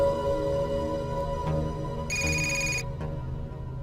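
A telephone rings with a steady electronic tone, a brighter high-pitched burst of ringing in the middle, loud and close with no talking over it.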